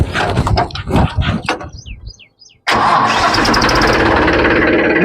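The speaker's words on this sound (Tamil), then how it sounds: "இப்போ வாங்க வண்டி ஸ்டார்ட் பண்ணி காட்டுறேன்." A used tractor engine cranks with rapid rough chugging, pauses briefly, then catches and settles into a loud, steady, close diesel rumble.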